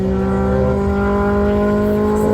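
Aspirated Mark 1 cars drag racing, one missing a gear, with loud sustained engine roar and rich harmonic drone throughout, close and steady with no break in the noise.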